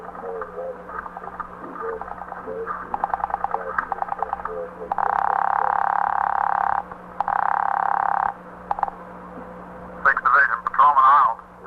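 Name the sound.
telephone switchboard ringing in a radio drama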